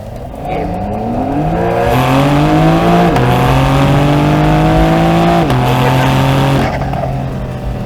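A modified Porsche 911 Carrera GTS on lowering springs drives by in close view, its engine revving loudly and rising through the gears in steady sweeps, with two clear shifts as the pitch drops and climbs again.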